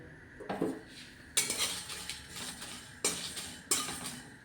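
Five dry red chillies are stirred in a pan for onion chutney, with bursts of metal utensil scraping and clinking against the pan over a faint background sizzle.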